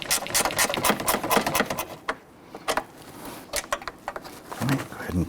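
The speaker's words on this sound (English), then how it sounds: "that's going to expose another 10mm bolt right behind it. We're going to go ahead and use our gear wrench for that." Gear wrench ratcheting on a 10mm bolt while replacing the AC condenser on a 2011-2021 Jeep Grand Cherokee, a rapid, uneven train of close metallic clicks that pause briefly and then resume.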